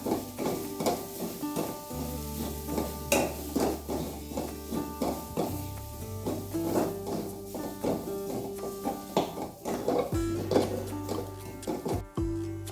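Grated coconut being stirred into a mixture in a pan while making a green gram and banana snack, with repeated scraping and clinking strokes over a soft sizzle and a steady low hum.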